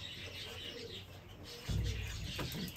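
An old spinner pigeon coos faintly amid ambient outdoor noise, a soft low throaty murmur rising briefly near the end, with no voices.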